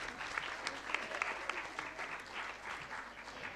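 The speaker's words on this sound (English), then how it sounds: "Children, let's have a loud applause for all of them." Children at a school reading competition applaud the winners, a dense, even patter of many small hands clapping together for a few seconds.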